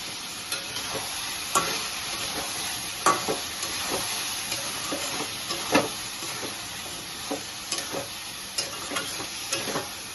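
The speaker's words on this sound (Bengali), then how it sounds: "এইভাবে এখন কষাবো" Country chicken with ground spice paste being fried in a wok, giving a soft continuous sizzle punctuated by sharp, evenly spaced spatula scrapes and knocks, no voices.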